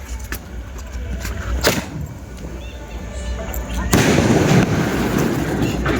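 Sharp firecracker bangs burst out at a dandiya raas celebration, a loud crack near the start and a dense crackling barrage later, with people talking in the background.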